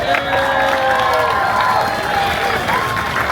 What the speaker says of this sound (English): let's give them and all those dedicated breeders a great big round of applause